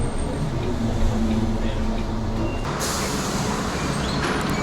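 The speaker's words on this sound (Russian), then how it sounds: "Вот он, автобус подъезжает" A city bus pulls up at a stop in Mexico City, its engine a loud, steady rumble that fills the street, with a sudden hiss of air partway through and faint talk underneath.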